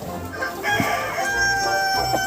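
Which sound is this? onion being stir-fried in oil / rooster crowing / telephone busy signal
rooster crowing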